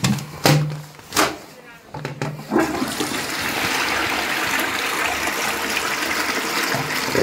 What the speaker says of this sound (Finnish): No vedetään vessanpöntöstä alas, ei katsota näitä ollenkaan